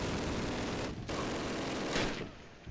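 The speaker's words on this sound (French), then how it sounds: "Oh merde, j'ai une autre mitrailleuse. J'essaie de faire des tirs assez précis là" Machine gun fire rattles on continuously in the Call of Duty Classic video game. The dense, loud burst breaks off briefly once and then resumes, with no speech.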